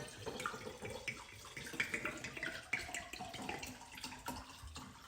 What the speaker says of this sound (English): I'm going to pour this vodka in here.